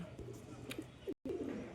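Domestic pigeons coo faintly with soft, low throaty calls amid quiet background noise, with a brief dropout near the end.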